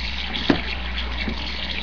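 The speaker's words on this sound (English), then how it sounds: "I can put some hot water in it right now." Hot water pours steadily into a bucket, a continuous rushing splash with one brief knock near the start.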